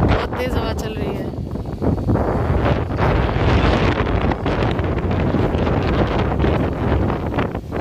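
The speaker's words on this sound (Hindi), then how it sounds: "बहुत तेज हवा चल रही है" Strong gusty wind buffets the microphone outdoors, a loud continuous roar with rushing surges throughout, broad and close, with no other sounds standing out.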